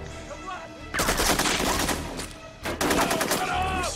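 Gunshots in a video game firefight against militants, with loud bursts of rapid fire in two main volleys separated by a brief lull, over a constant background ambience.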